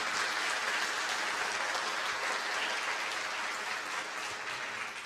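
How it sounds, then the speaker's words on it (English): Audience applause for a pianist at an outdoor noon swing band concert, a soft, distant patter of clapping held steady for several seconds with no voices over it. "Please give him a warm applause."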